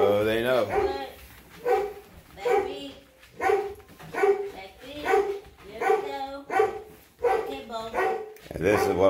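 Puppies bark in the morning in a series of about nine short, evenly spaced yips and barks, moderately near.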